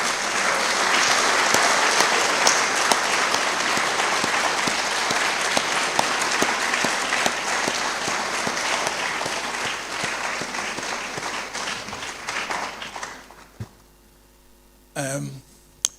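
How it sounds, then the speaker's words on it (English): Audience applause at an inaugural lecture, sustained loud clapping from a hall full of people that holds steady before tapering off and stopping, leaving a quiet room with a brief voice near the end. "Can we show a better applause?"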